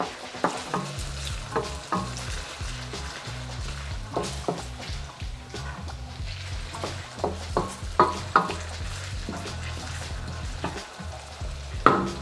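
Ingredients for chicken pastil sautéing in a pan: a steady sizzle broken by repeated scraping and clacking of a spatula stirring against the pan, with a sharper knock near the end and no talking.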